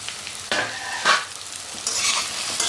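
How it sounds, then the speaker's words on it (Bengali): Potatoes and yardlong beans are stirred in a frying pan, a spatula scraping in a few quick strokes over a steady soft sizzle, with no voices. "এখন এটাকে একটু নাড়াচাড়া করে নিচ্ছি"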